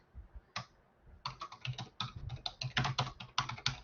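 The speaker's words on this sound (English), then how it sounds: "I'm really typing poorly today." Someone types on a computer keyboard in irregular bursts of quick, close clicking keystrokes, with short pauses between runs and no talking.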